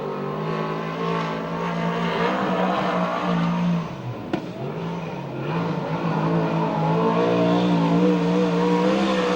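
A USAC/CRA sprint car on a time-trial lap at Santa Maria, its loud engine roaring close with a brief dip and sharp burst midway before climbing back to a sustained high-pitched howl.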